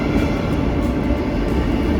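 A train arriving at a station in Switzerland, a loud continuous rumble of wheels and carriages rolling in close by, with no talk.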